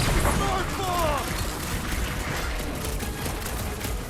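A smart bomb goes off during a Guardians of the Galaxy video game battle, setting off a dense flurry of booms and gunfire-like blasts with crashing debris, while voices talk over the barrage.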